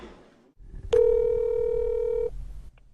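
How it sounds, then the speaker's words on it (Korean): A steady telephone ringback tone sounds while a call is placed to a lawmaker's phone, switching on abruptly at about a second and holding loud and even for over a second before cutting off, with low background hum around it. "오지 않은 강창일 의원에게 전화를 해봤습니다"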